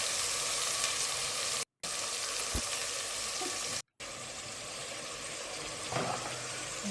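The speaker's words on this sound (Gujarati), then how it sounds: "બધી શાકભાજી સુધારી હતી એને વઘાર કરી લેશું." Chopped vegetables for undhiyu frying in a hot mustard, cumin and asafoetida tempering, giving a steady close sizzle and hiss with brief dropouts and a faint stir or clink.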